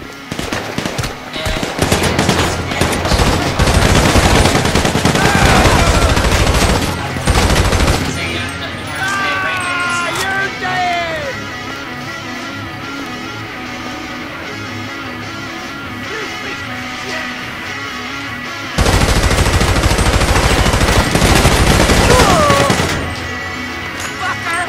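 Rapid SMG gunfire in GTA V Online Survival Mode at Sandy Shores, loud sustained bursts in two main stretches with quieter game sounds and chatter between.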